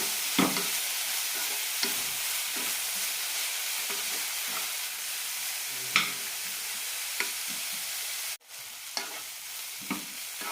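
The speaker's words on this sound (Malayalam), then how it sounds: "അഞ്ചാറ് മിനിറ്റ് നന്നായി വഴറ്റിയെടുക്കാം. ഇടയ്ക്കൊന്ന് ഇളക്കാം." Bitter gourd sautés in a pan with a constant loud sizzle, and a spoon scrapes and stirs it in short, evenly spaced strokes.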